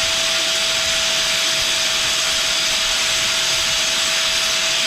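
A cutoff wheel spinning on an Axelson gearhead lathe, giving off a loud, steady, high-pitched whine with a constant tonal hum and no talk.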